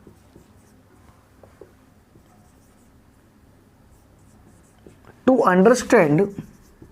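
Handwriting during a Class 11 physics lesson, a faint, steady scratching close to the mic that runs quietly for several seconds before a voice speaks over the end.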